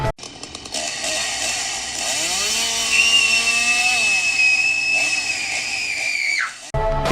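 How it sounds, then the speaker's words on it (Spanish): A chainsaw cuts in a horror audio drama, revving up to a high whining roar, holding a long sustained cut, then dropping away sharply near the end. "El corte fue limpio, y el torniquete así como la motosierra hicieron su trabajo."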